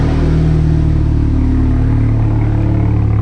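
A VW MK5 Jetta engine revs while driving, a loud, steady mid-pitched drone that swells slightly as it climbs, close and continuous with no talking.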